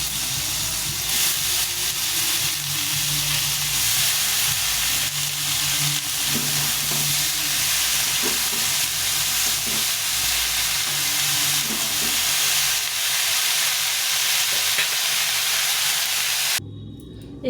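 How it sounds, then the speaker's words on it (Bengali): Cabbage fries steadily in a pan with slit green chillies and chopped tomato, giving a continuous close hiss with occasional stirring clatter before it cuts off near the end. "ভালো করে ভেজে নেব"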